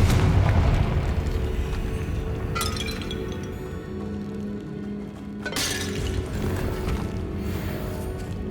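Confringo spell blasts in a Hogwarts Legacy battle, loud booming explosions with shattering, clinking debris and a rumbling low roar throughout, a second burst flaring up midway.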